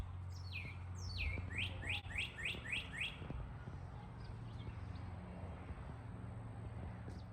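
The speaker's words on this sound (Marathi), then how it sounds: "इथे आता पक्ष्यांचा आवाज येतोय सकाळ." Birds chirp in a quick burst of repeated rising calls during a total solar eclipse in the USA, set against a steady outdoor hum, then only faint scattered calls follow.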